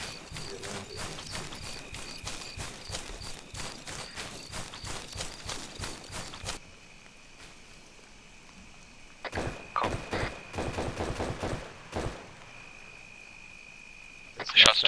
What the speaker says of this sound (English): Shots to our northeast.